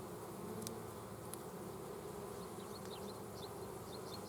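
Honey bees feeding on sugar water drone in a steady, dense buzz, with occasional individual bees whining past nearby. The sound is quiet and continuous, with no voices.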